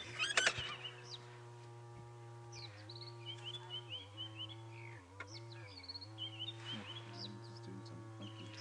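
A little bee-eater gives short, high chirps and trills on a safari drive, faint and somewhat distant, scattered over a constant low vehicle hum.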